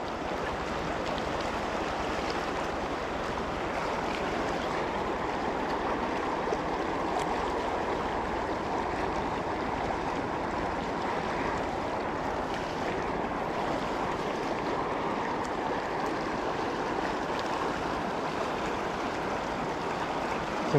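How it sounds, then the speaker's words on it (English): Fast, turbulent river water rushing steadily during early spring runoff, a continuous full roar with no voices. "Some pretty fast water right there."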